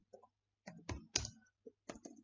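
A computer keyboard is tapped in short, sparse clicks and keystrokes, close and fairly quiet, with irregular gaps between presses and no voice.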